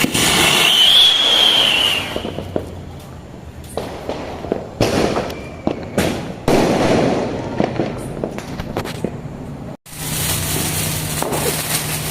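Diwali fireworks in Trivandrum: a rising rocket whistle opens, then dense crackling firecrackers and sharp bursts follow continuously, loud and close, with a brief pause before a final burst.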